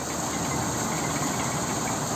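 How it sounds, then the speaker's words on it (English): Tractor engine running a corn threshing machine outdoors in rural Pakistan, a steady broadband hiss and drone at moderate level, continuous without breaks. "tractor is running that with a little bit of power"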